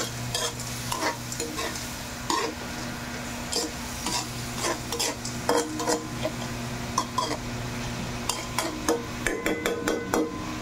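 Utensil stirring chicken ala king sopas in a pot, with repeated scraping and clinking strokes in an irregular rhythm over a steady background hum, close and fairly loud, and no talk.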